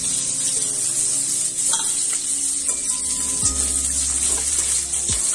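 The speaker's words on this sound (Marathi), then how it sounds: "कांदा टाकून घेऊया आपण आता" Mustard seeds and chopped onion sizzling and frying in a hot pan in a home kitchen, a steady hiss with occasional stirring clinks and scrapes, close and continuous with no talk.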